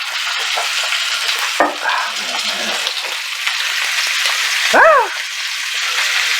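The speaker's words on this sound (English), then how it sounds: "Now turning a steak is easy. Just gonna use some tongs." A steak sizzles steadily in a hot pan, a loud close frying hiss with brief scraping clatters as tongs turn it, and someone speaks over the cooking.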